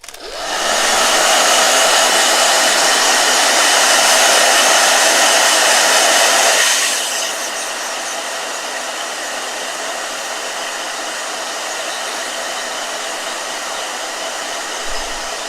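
A blow dryer runs while drying a watercolor painting, a loud steady whooshing roar that drops to a softer, lower setting about halfway through and keeps blowing evenly.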